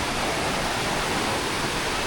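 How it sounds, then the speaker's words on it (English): Glacier-fed river in Marble Canyon, a continuous dense rush of flowing water, broadband and steady, close and fairly loud with no pauses. "Look at the river."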